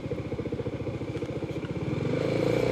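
A motorcycle engine labors up a steep uphill road, its throttle held open in a rapid, throbbing pulse that grows steadier and louder as the rider keeps climbing, close and alone without talk.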